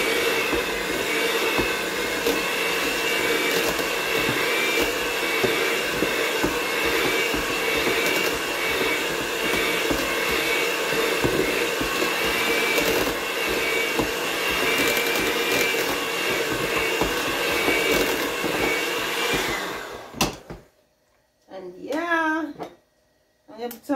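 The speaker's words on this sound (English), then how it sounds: "I'm gonna use my blender to separate them" A kitchen blender whirs loudly and steadily for about twenty seconds, breaking up clumpy dried fruit for a fruit cake, then cuts off abruptly, leaving a few short quieter bursts and handling noises.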